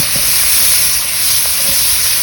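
Over a campfire, flames heat a Dutch oven of creamy chicken soup with vegetables, producing a loud, continuous sizzling hiss with a few faint clicks and crackles.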